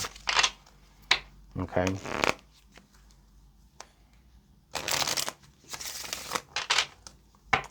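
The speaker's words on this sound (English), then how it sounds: "So I'm going to pull some fortune cards here" Tarot fortune cards shuffled by hand in several loud riffling bursts, close and crisp, with brief speech between them.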